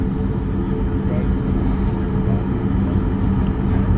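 Boeing 737 MAX 8 airliner taxiing at Trudeau Airport, heard from inside the cabin as a steady low engine rumble and hum, even and continuous without any surge.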